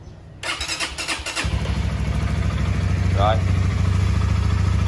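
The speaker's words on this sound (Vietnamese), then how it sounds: "bấm một cái là nổ anh em" A Honda Winner X motorcycle with a weak battery cranks briefly with a whirring starter, then fires and settles into a steady, close idle. Someone speaks a single word over the engine.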